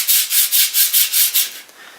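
A linear rail carriage slides along 2020 aluminium extrusion: a rapid back-and-forth hissing scrape, about eight quick strokes in a steady rhythm, fading out at the end.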